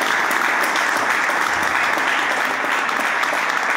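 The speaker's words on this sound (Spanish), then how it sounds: "el doctor Raúl Castillo, por el que pido un fuerte aplauso" A crowd applauds steadily and loudly at a Peronist political speech in Argentina. The clapping forms an even, dense wash with no voices rising above it.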